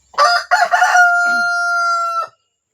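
A Japanese bantam rooster, the smallest chicken breed, crows once up close: two short rising bursts, then a long, steady, tonal held note that cuts off sharply.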